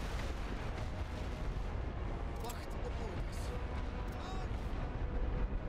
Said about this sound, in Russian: Огневой вал прокатывается.